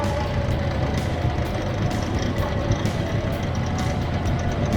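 A truck engine labours hard to drag the vehicle through heavy mud on a rough Old Woman Range track in Central Otago, New Zealand, a steady low rumbling drone with mechanical clatter throughout.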